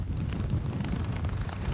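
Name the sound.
strong hurricane wind gusts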